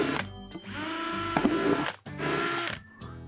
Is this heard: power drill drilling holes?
yes